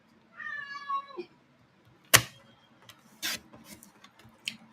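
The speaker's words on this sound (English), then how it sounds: "You have to excuse my cat, he doesn't understand that I'm working." A house cat gives one long, rising-then-falling meow, close and clear, followed by a few sharp clicks and taps from nearby crafting work.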